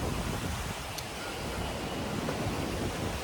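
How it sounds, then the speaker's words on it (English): Strong ocean waves at Nha Trang beach, a steady broadband roar of surf with wind buffeting the microphone, moderately loud and continuous with no voices. "the boat is not going to sustain this type of level of waves"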